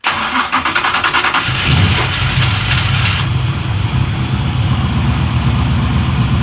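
A race car engine cold-starting after sitting six months, with an exhaust leak, cranks briefly, then catches and settles into a loud, rough idle that runs steadily through the rest of the clip.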